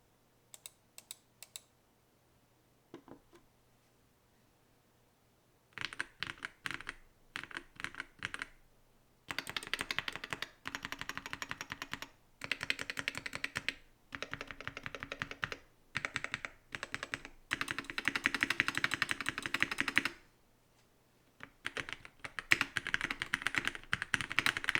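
Typing on an Infius Mobius MB-78 mechanical keyboard with tight foam-packed case construction, giving a muted, marbly clatter. Bursts of rapid keystrokes start and stop repeatedly, close and fairly quiet, with brief pauses between runs.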